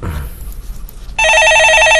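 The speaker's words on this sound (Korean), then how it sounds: "예, 전화 받아보겠습니다." Telephone ringing in a broadcast studio during a stock market call-in program, a loud, steady electronic ring that starts abruptly about midway after brief murmuring and continues to the end.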